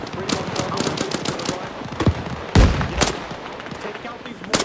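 Rapid machine gun bursts crack through a military combat game, close and loud with irregular rhythm and a few heavier booms, while radio-style voices talk over the firing.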